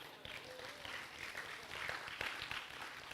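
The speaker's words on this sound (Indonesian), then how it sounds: "Tepuk tangannya jangan setengah-setengah dong" Church congregation applauding during a sermon, a continuous wash of many hands clapping at moderate distance, fairly even and sustained with slight swells, some voices murmuring underneath.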